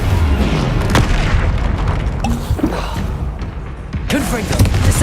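A Flipendo spell is cast in Hogwarts Legacy, a deep booming impact among several thumps and bursts of combat noise, loud and close, with a voice speaking over parts of it.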